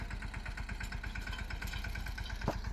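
A tractor engine idles near at hand with a steady, fast low chugging pulse, plus one brief sharp click near the end; no one speaks.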